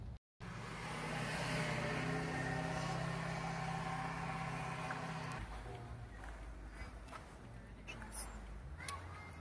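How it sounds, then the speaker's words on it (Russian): A car drives past near a covered bridge, its engine and tyre roar building loud and steady, then easing off as it moves away, with people talking over it. "Машина едет."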